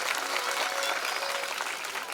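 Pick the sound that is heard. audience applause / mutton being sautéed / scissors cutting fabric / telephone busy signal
audience applause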